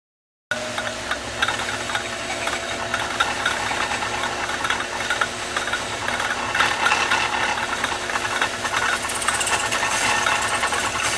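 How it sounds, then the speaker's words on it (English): A metal lathe runs in reverse while turning a chuck key grip at a 45-degree angle, giving a steady loud mechanical hum with rattling vibration and a brighter cutting hiss building toward the end. "I'm going to do this at a 45-degree angle with the lathe running in reverse"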